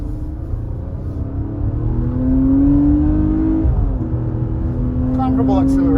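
A 2022 Toyota Highlander or Nissan Pathfinder SUV pulling away under acceleration, its engine tone climbing steadily as a rising whine and rumble inside the cabin, loud and continuous, with someone talking over it.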